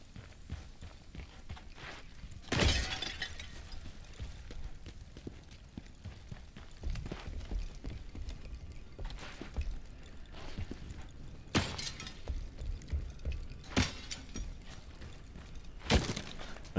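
A small barrel smashed by a character dashing through it in a video game: several sharp cracking breaks spaced apart over a quiet background, with no talk.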